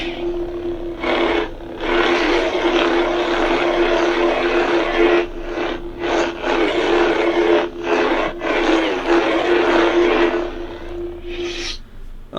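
A CCSabers lightsaber hilt running Star Wars Jedi Fallen Order sound effects gives off a loud, buzzing hum that swells and dips, broken by several brief cut-outs, with no talking over it.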